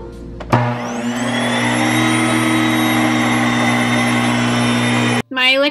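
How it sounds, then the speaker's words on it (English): An electric grain mill grinding fresh grains into flour starts with a click and rises into a loud, steady, high-pitched motor whine with a buzzing hum, then cuts off abruptly just before a voice speaks. "My electric grinder is a little bit loud, but it doesn't take very long for it to turn the fresh grains into flour."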